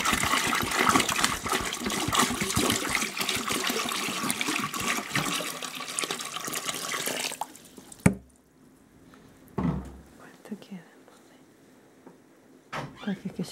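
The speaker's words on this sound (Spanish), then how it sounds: "se le procede a agregar agua." Water pours into a pot holding jars of grape juice for preserving: a loud, continuous gushing splash for about seven seconds, then sudden quiet with a few drips and light knocks.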